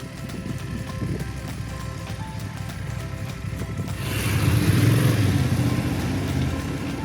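A BMW F750 or 850 GS adventure motorcycle riding trails near Granada, with a steady engine drone under wind noise that swells louder about halfway through as the bike picks up speed.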